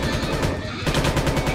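Rapid gunfire in a Minecraft game battle against Skibidi toilets, dense machine-gun bursts crackling loud and close, with a brief gap in the middle before the shooting resumes.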